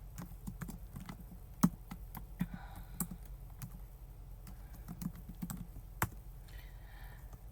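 Keystrokes on a computer keyboard while text is entered into a Notion page, a steady run of light clicks with a few louder taps, close and alone with no talking.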